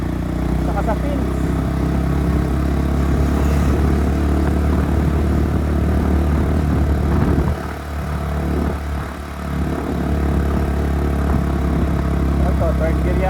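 An air-cooled motorcycle engine runs in third gear, a loud, close, steady drone with a brief dip in revs partway through before it pulls strongly again.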